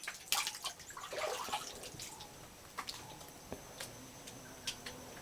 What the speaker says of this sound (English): there's water streaming out of there, and then it flows down into the waterfall